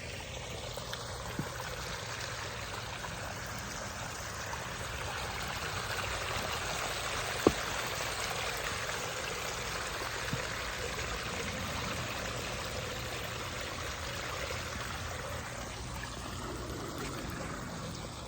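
A pondless waterfall water feature in a screened-in backyard enclosure in Palm Harbor runs steadily with a broad, even rush and trickle of falling water for the whole stretch, with no voices.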